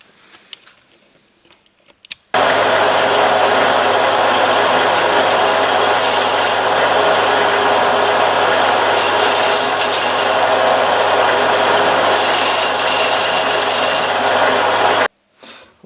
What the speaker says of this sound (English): Okay, back to the belt sander.